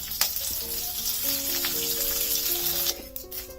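Tempering spices sizzle and crackle in hot oil for a ginger chutney, a steady close frying hiss with a few brief pops, while faint background music tones play underneath; no one speaks.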